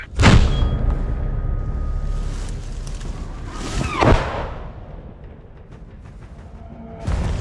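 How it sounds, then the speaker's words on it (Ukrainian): Two gunshots in a combat zone: a single loud shot cracks out near the start, and a second sharp blast follows a few seconds later, each trailing into a rumbling echo. "Постріл!"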